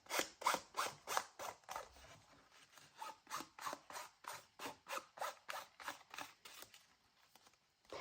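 Scorched timber is rubbed directly along the edge of a paper print in about twenty quick, regular scraping strokes, close and quiet, with brief pauses between bursts and no talking.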